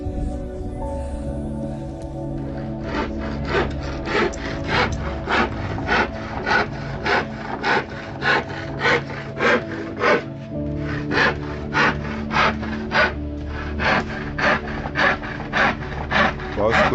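A hand saw cutting through wood to trim window frames, with regular rasping strokes, roughly two per second, loud and close, running for many seconds after a short quieter start.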